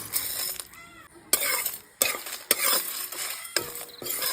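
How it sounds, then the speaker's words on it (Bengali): Coriander, cumin, dried chilli and black pepper dry-roast in a wok, crackling and popping with sharp stirring scrapes and clanks at irregular intervals, close and moderately loud. "আর এই ফুটফাট করে শব্দও করছে, তার মানে হয়ে গেছে ভাজা।"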